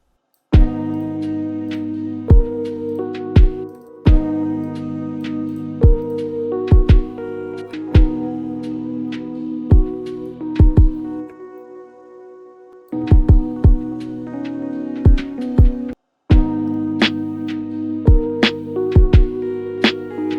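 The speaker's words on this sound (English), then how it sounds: "Got a little percussion loop going." A steady lo-fi percussion loop of sharp drum hits and tonal layers repeats in a tight groove, with a brief dropout near the middle and a short gap before it resumes.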